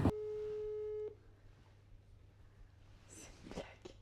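A single telephone ringback tone sounds for about a second when calling a hotel number in Paris, then faint room noise and a few soft knocks follow.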